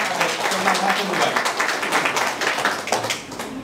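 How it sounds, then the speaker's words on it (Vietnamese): Audience applause at a Ninh Giang hometown association gathering in Hanoi: a dense, steady burst of many hands clapping, loud and sustained, fading slightly toward the end. "cho một tràng pháo tay để chúc mừng và chia vui với những thành tựu của đồng hương Ninh Giang trong năm 2017"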